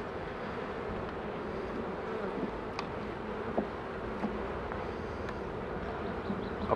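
Honeybees hum around an open beehive in spring, making a steady, dense buzz that holds throughout at moderate loudness. A few faint clicks sit under the drone.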